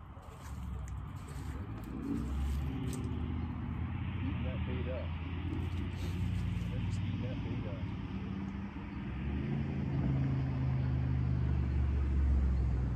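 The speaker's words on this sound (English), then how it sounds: "Sorry for all the traffic, it's a road right behind us." Road traffic rumbles steadily behind a riverbank on the Auglaize River at dusk, a low continuous drone of passing cars, moderately distant, with people talking over it.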